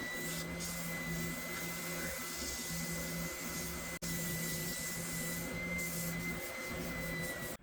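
Continuous abrasive whirring of a power sander working wood, steady and close, with a brief interruption midway and no talking.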